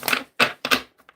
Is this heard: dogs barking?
no